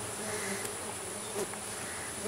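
Tiny stingless Melipona bees buzz around their hive in a clay pot, a steady close, dense hum of many wings with no voices.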